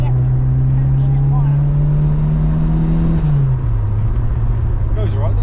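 A Ford Escort RS Turbo Series one drives along from inside the cabin, its engine a loud, steady drone that climbs slowly, then drops in pitch as the revs fall, with people chatting briefly.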